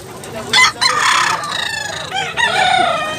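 Chickens cluck and a rooster crows nearby at a fighting-cock market in Tabunok, Talisay, Cebu, several rising calls in quick succession over steady outdoor background noise.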